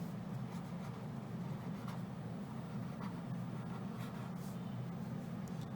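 Marker or chalk scratching across a teaching board, a faint rubbing stroke sound repeating against a low steady room hum, with no speech.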